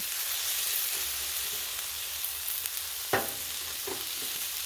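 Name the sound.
pork fried rice frying on a Blackstone griddle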